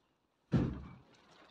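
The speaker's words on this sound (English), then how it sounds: "Why can I hear a door slamming about?" A single heavy door slam, a sharp low thud after near silence, followed by a brief fading rattle.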